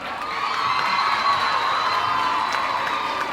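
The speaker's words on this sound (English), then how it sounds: "big round of applause to everyone" Students at a college valedictory function applaud and cheer, a loud, continuous crowd noise with whoops and shouts layered over clapping, heard up close.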